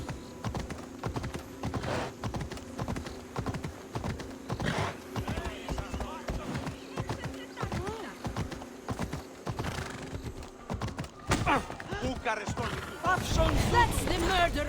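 Horse hooves clip-clopping in a fast, regular gallop in Assassin's Creed Odyssey, close and continuous, with game voices and effects breaking in toward the end.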